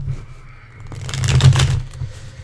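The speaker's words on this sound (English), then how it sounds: "Get this card to shuffle, and we'll find out." Tarot cards being shuffled by hand, a brief riffling, flapping burst of card rustle that swells in the middle and fades, close and fairly loud over a low hum.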